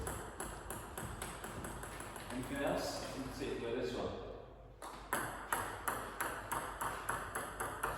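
Table tennis balls struck and bouncing during serve practice, a string of sharp, evenly spaced pings and taps, with people talking over a stretch in the middle before the regular rhythm of hits resumes.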